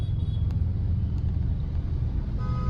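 Heavy highway traffic on the road from the airport to Kalyan, where metro construction is under way: a dense, steady engine rumble fills the scene while car horns toot briefly at the start and again near the end.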